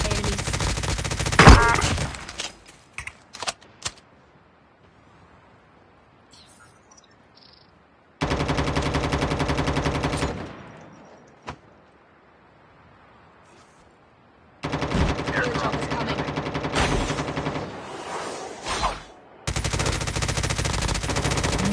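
MP5 submachine gun fire in Call of Duty Mobile: loud sustained automatic bursts split by quiet gaps, with rapid repeated shots in long streams and a few single sharp reports.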